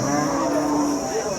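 A cow, probably a Holstein Friesian dairy cow, gives a single short low moo at a crowded cattle market, heard against steady background crowd noise.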